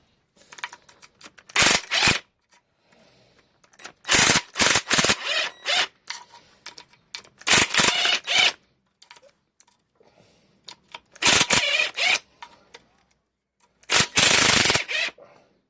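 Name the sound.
air impact gun undoing bolts on a VW Golf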